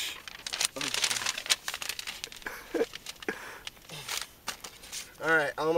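Toilet paper is crinkled and crumpled by hand during an outdoor wilderness toilet stop, giving close, scattered papery rustles that run under steady talking.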